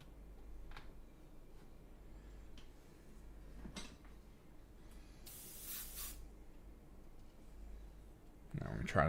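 An aerosol can of primer sprays a Halloween daemon prince miniature model in a single hissing burst of about a second, with faint clicks and quiet room noise around it.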